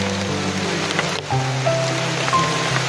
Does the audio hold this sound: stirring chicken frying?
no